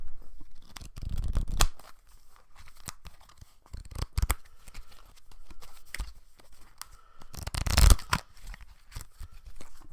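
Papery riffling and shuffling of a tarot card deck, with several louder bursts and soft handling rustles between them, close by.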